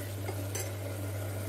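Masala with turmeric and garam masala being stirred in a cooking pot, a faint scraping of spoon against metal over a steady low hum, close and continuous for a moment.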